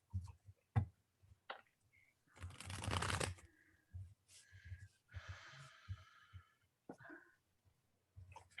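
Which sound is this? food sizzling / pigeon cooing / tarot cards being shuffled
tarot cards being shuffled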